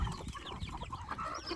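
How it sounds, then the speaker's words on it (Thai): Chickens on a hillside farm near a house in rural Thailand cluck in quick, scattered calls against a busy outdoor background of other birds, with no one talking. "ไก่เจ้ามาเลยอยู่นี่เนาะ"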